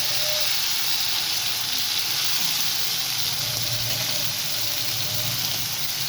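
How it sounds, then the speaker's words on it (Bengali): Prawns fry in a pan of hot oil, giving a steady, close, hissing sizzle that runs unbroken from start to finish with no voices. "চিংড়ি মাছটা আগে ভেজে দেবো"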